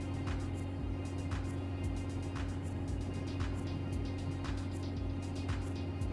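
A car cruising at 80 km/h in third gear while forcing a diesel particulate filter regeneration, a steady droning engine and road hum heard from inside the cabin, constant and moderately quiet with no talk.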